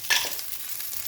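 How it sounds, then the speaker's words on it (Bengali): Whole garam masala of cardamom, cinnamon and cloves sizzling in oil, a brief sharp hiss at the start settling into a faint steady sizzle. "গরম মশলার ফোড়ন দিলাম"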